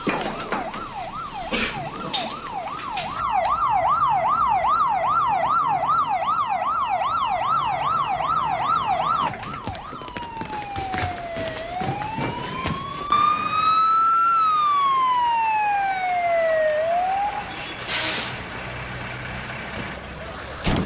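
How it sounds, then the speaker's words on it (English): Fire engine sirens in London blare loudly, first a fast warbling wail, then slower rising and falling tones, with engine rumble and brief voices in the background. "Hear the sirens?"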